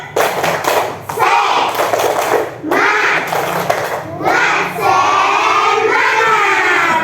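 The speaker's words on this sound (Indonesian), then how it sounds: "sebelum kita belajar, kita tepuk semangat dulu. Tepuk semangat." Schoolchildren in an Indonesian classroom perform a rhythmic spirit clap chant, bursts of sharp clapping and shouted voices alternating in quick patterns, loud and close, with a teacher's voice mixed in.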